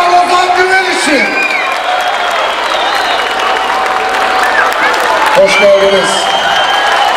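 A crowd at a film premiere in an Izmir shopping mall gives sustained applause mixed with cheers and whoops. A host speaks over the continuous clapping.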